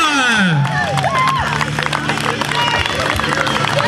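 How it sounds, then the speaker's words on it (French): A crowd applauds the podium winners at the Avrillé 2013 promo final, loud and continuous clapping mixed with cheering and crowd babble, with a voice rising above the din. "vous pouvez les applaudir"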